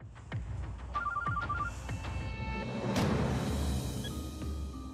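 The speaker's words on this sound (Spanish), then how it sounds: "está llamando Sofía a Cristóbal" A telephone rings in a Spanish-language telenovela scene, a short pulsed electronic trill repeating over a busy background of thuds and a rising swell, fairly faint and with no talking.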